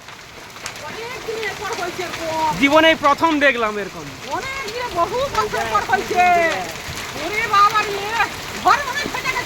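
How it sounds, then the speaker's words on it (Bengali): A heavy hailstorm pours down in a dense, steady clatter and hiss, with loud talking close by over most of the clip. "মারাত্মক শিল বৃষ্টি মারাত্মক"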